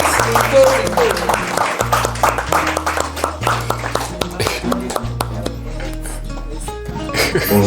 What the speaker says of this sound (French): let us put our hands together to welcome Kopo